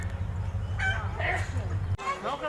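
Red junglefowl at the National Zoological Park in Delhi gives short clucking, crow-like calls under steady low background hum, while a person talks over the calls at close range.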